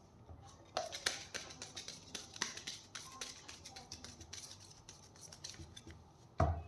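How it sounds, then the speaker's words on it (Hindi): Tarot cards are shuffled by hand close up: a quick run of crisp, papery riffles and soft snaps, ending with a single firmer knock as the deck is squared. "this is my last shuffle angels"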